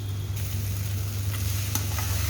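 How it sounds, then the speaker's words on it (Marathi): Leftover bhakri pieces fry in a pan and are stirred and turned for a poha-style dish. A continuous close sizzle runs under the scraping of the spatula, with a faint steady hum beneath and no talking. "पोहे जसं आपण हलवतो तसं हलवत राहायचं"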